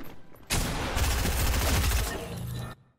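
Continuous rapid gunfire in the online shooter Fortnite, a loud dense burst lasting a couple of seconds with booming low rumble, then abruptly cutting off.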